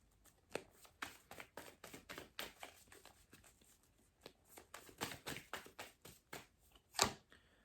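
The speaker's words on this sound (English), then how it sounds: "Let me shuffle." Tarot cards being shuffled by hand, a quick run of crisp papery riffles and taps in irregular bursts, close and fairly quiet, with a sharper slap near the end.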